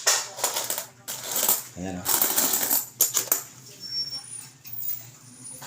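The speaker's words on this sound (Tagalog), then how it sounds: "Ito pa mga 2 piso. Barya." Two-peso coins tumble and clink in bursts, with a person speaking throughout the jingling handfuls.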